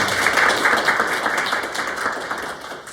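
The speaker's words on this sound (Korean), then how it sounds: "다 같이 박수로 한번 축하해 주시겠습니다" Dense, loud applause from a group gathered for the opening of an instructor training course, a continuous wash of many hands clapping that tapers slightly toward the end.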